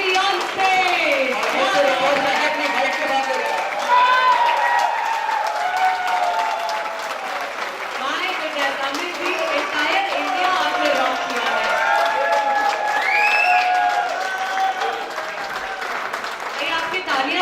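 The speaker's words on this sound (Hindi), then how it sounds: "उनका मंच पर तालियों के साथ आइए स्वागत करते हैं" Loud audience applause and crowd cheering at an Indian paint company's annual award ceremony as a guest is welcomed on stage, steady throughout while an announcer speaks excitedly over the clapping.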